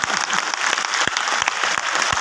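Crowd applause rings out at an Azadi Mahotsav motivational talk in Jaipur, Rajasthan: a short, dense burst of many hands clapping at an even level throughout.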